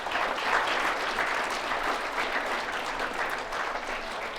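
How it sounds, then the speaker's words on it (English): Students at an eighth-grade career day give their tour guides a round of applause: dense, even clapping from a crowd, moderately distant and steady throughout, with no voices. "Let's give them a round of applause."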